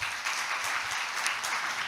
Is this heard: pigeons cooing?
no